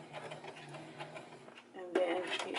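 Sewing machine back stitching the seam of a lace wig cap, a soft rapid run of stitching ticks that grows louder and busier toward the end, with a voice speaking over it.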